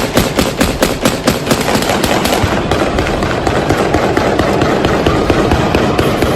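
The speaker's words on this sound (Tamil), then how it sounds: "வானத்தை நோக்கி துப்பாக்கியால் சுட்டு இந்த வெற்றியை கிளர்ச்சியாளர்கள் கொண்டாடியிருக்கின்றனர்." Rebels firing celebratory gunfire into the sky, a loud, rapid burst of automatic shots at the start that gives way to scattered cracks and a dense, echoing din of distant shooting.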